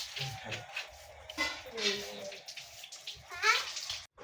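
Water runs from a tap while hands are washed, a splashing, rushing stream close by that rises and falls, with faint voices murmuring underneath.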